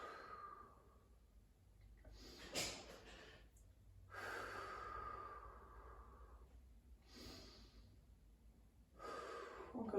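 During a Pilates workout with a small soft ball, someone breathes audibly, with several slow, close exhales separated by quieter intakes of breath in a calm setting.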